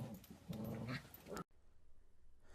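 A Maltese dog growls aggressively for about a second and a half, loud and close, with harsh rumbling bursts, then the sound cuts off abruptly into quieter background noise.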